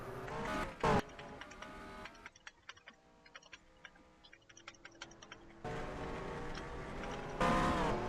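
In a racing video game, a race car pulls off pit road. An engine roars loudly at the start, drops to quiet ticking and clicking, then roars again as it revs up near the end.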